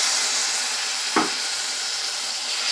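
Ground white mustard paste drops into ridge gourd frying in a pan, a short soft splat and brief sizzle burst rising over a steady, close frying hiss.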